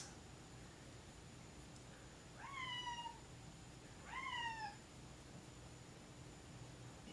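A cat shut in a garage meows twice, two clear descending cries a second or so apart, somewhat distant and faint over a steady background hiss.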